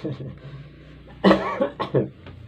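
A single harsh cough bursts out, followed by a couple of smaller coughs and throat-clearing sounds, close and fairly loud.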